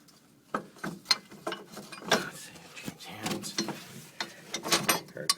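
Ratchet wrench working a bolt loose on a Porsche 914 rear bushing mount, irregular bursts of clicking and metallic clatter up close, loud and uneven.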